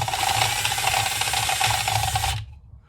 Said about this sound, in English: So we're going to cut this off and drill this hole.